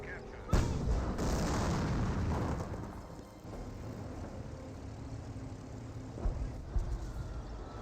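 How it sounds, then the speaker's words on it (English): Artillery fire in the real-time strategy game Company of Heroes, with a sharp loud blast followed by rumbling impacts and further fainter booms later, amid battlefield noise. "we've got some artillery to stop these Panzer Grenadiers advancing"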